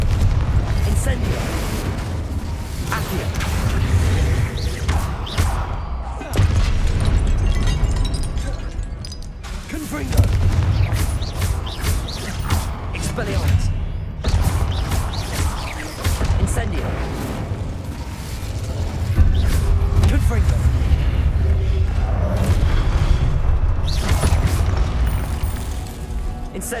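Repeated explosive spell blasts from Hogwarts Legacy boom and burst in close succession over a dense, rumbling game soundtrack, loud and layered with other combat effects throughout.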